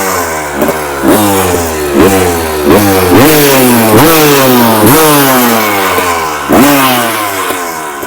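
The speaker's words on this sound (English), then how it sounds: "As you can see, the old girl fires right up now. First kick, which is good, and takes throttle without bogging." Two-stroke engine of a 1990 Honda CR250R motocross bike running close and loud, repeatedly revved in rising and falling blips over a rough, crackling idle, with no voices.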